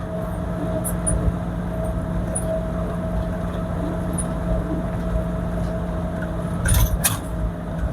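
Inside an old Toyota Hiace 3L 2.8 van at speed, a steady engine and road drone with a sustained whine from a worn differential at high revs, continuous and fairly loud.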